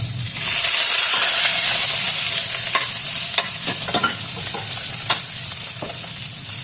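Pork frying in a pan with plenty of onions and garlic, a steady loud sizzle and hiss throughout with occasional clicks of a utensil against the pan, no talking.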